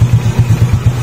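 A Honda XRM 125 motorcycle fitted with a full-wave conversion runs close by, its engine throbbing in a fast, even, low pulse with no voices.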